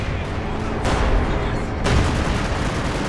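Rapid gunfire and booming blasts from a Panzer IV command tank in a real-time strategy game, with a loud burst near one second and another near two seconds over a constant dense battle din.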